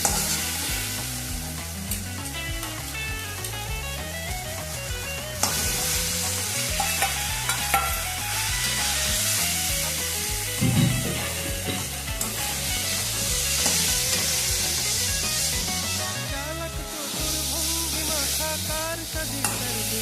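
Bombay duck fish fry in oil with salt and turmeric, giving a steady sizzle with occasional stirring, partly masked by loud background music with singing.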